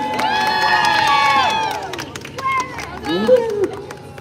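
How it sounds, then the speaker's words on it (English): A crowd at an outdoor live show at Disney's Hollywood Studios cheers, with children shouting and a light scatter of clapping. The sound is loud and lively, under an amplified voice speaking. "And all this applause is going to be for you, friends."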